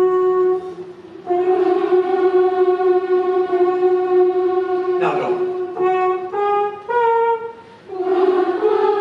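A voice mimics a trumpet, humming a buzzy "boo" through nearly closed lips; sustained brassy tones held for long stretches then stepping through a few short pitch changes, loud and close, with no other sound.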